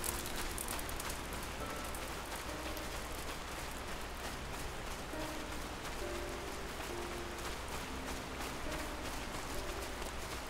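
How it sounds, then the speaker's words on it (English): Continuous rain falls in a Final Fantasy XIV zone, giving a dense, even hiss. Faint tonal game sounds float underneath. "I wonder if it's always raining in this zone, because it sure can rain."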